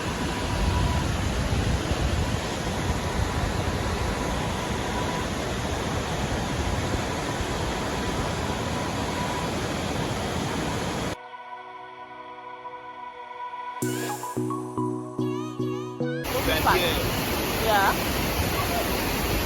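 Farin Ruwa waterfall in Nigeria roars as a loud, dense, steady wash of falling water for about eleven seconds, then cuts to quieter, choppy sound with a brief voice.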